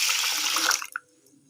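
Water runs from a tap onto soaking rice in a home kitchen while Odia pitha is being prepared, a steady broad splashing gush that stops abruptly near the end and leaves a brief trickle.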